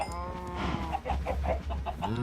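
Minecraft chickens cluck in quick repeated bursts, several birds close together, with a brief crow-like note at the start and low ambient hum beneath.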